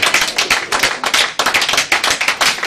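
Congregation at a church service claps loudly and steadily, dense applause filling the whole moment with rhythmic bursts and scattered cheers, no speech over it.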